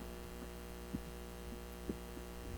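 A steady, low electrical hum from a running electric fan, with a faint motor drone, broken by a couple of soft bumps.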